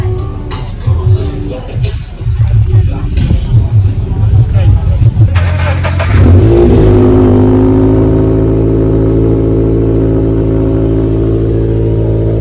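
A car engine starts and revs up amid chatter and voices, then settles into a loud, steady idle hum that carries on alone for several seconds.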